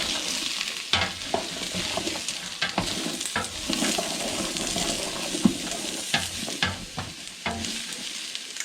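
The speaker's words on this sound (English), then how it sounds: "Stir it around a little bit." Onions sweat in a pan for a butternut squash pasta sauce, a steady medium sizzle broken by repeated spoon clacks and scraping strokes as they are stirred around.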